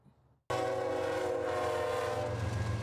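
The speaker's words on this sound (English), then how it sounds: "train engineers have been required by law to blast their horns before every public crossing" A train horn blasts loud and sustained at a downtown Kent rail crossing, bursting in suddenly after a half-second of near quiet and holding steady with a deep rumble beneath.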